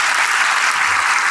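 A seminar audience in Rajkot, gathered for nursing exam guidance, applauds in a dense, steady burst of many hands that fills the room evenly from start to finish.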